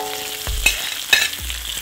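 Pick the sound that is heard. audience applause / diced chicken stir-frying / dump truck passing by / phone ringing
diced chicken stir-frying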